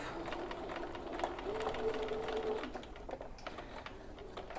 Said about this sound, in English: we're going to stitch right down to the slanted side, again retaining that 1/2 inch allowance as best you can